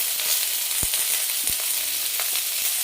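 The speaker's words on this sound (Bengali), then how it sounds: "ভালো করে নাড়াচাড়া করে নিচ্ছি।" Chilli mushroom fried in a pan, a steady bright sizzle with a few soft thuds and scrapes as the spatula stirs.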